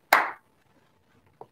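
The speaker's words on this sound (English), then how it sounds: "If I clap the hands" A single sharp, close hand clap followed by a brief trailing echo, then a fainter second tap moments later in a quiet room.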